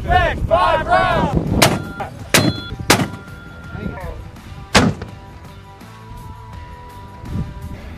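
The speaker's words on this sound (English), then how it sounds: "Today we were shooting a 60mm mortar" A 60mm mortar fires live rounds at a desert training area in Morocco, where a National Guard unit is running a military exercise. About four loud, sharp booming reports ring out at irregular intervals, and a voice briefly calls out at the start.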